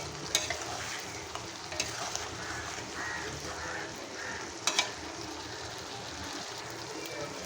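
Spice paste of onion, green chilli and cumin being stirred into chicken in a frying pan for a yogurt chicken curry, a steady soft sizzle with scraping spoon strokes and a few sharper clinks against the pan, no voices.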